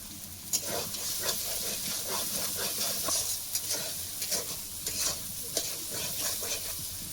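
Spice paste for a Bengali fish curry fries with a steady sizzle in a pan while a spoon stirs and scrapes it in repeated close strokes.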